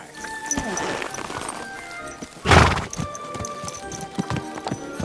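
Horse hooves clip-clop in the Kingdom Come Deliverance 2 video game, with a loud whinny midway through. The clip-clop is steady and close, and game speech plays faintly beneath it.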